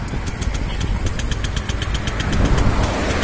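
An engine running on Pertalite fuel idles steadily up close, its regular rapid pulsing even and unbroken, growing slightly louder toward the end.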